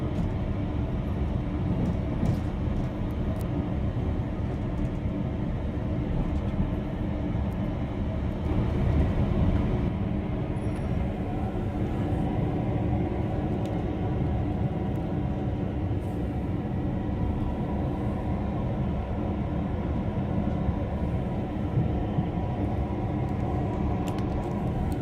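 Onboard a GWR Class 166 train heading to Reading, a continuous low rumble of wheels and engine fills the carriage, steady and fairly loud, with faint higher rattles and no talk.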